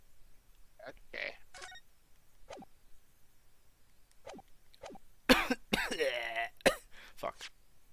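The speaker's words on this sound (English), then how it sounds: "Cough." A hoarse-voiced person coughs close to the mic in a quick cluster of several harsh, rough bursts, with a few fainter throat sounds before it in an otherwise quiet room.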